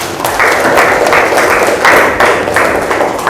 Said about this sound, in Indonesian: Kasih tepuk tangan untuk Dias